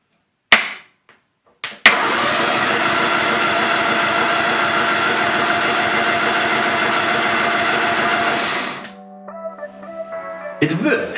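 On an old project car, a starter wired directly to the battery cranks the engine with a rapid, loud, rhythmic churning for about seven seconds after two sharp clicks, then slows and gives way to fainter tones and clatter.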